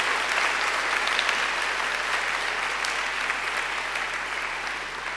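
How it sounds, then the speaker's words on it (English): Audience at a graduation ceremony clapping in a steady, sustained round of applause from many hands, fairly loud and even throughout, slowly easing toward the end. "Angela deserves another great round of applause."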